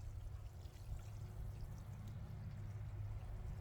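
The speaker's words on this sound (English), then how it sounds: "just water it in real good." Water pours steadily onto the soil around a freshly transplanted pawpaw tree, a continuous, soft splashing trickle with low rumble, close by and without talk.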